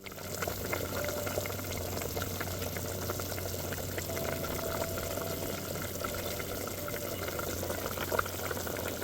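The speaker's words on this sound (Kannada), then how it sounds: "ಸೂಪ್ನ ಹಾಗೆ ಈಗ ಕುದಿಸ್ಕೊಳ್ಳೋಣ." Spicy crab soup simmering in a pot, a soft continuous bubbling with a low steady hum, fairly quiet and unbroken with no talking.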